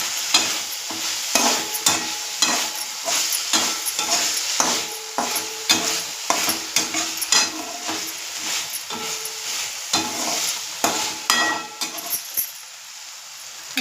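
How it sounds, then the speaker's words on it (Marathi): Capsicum and potato pieces frying in a pan while being stirred, with a steady sizzle broken by repeated scraping strokes of the spoon, close and alone, fading to quiet at the end. "हे आपल्याला सारखं वरच्यावर हलवून घ्यायचं आहे, कारण की ते करपू नये"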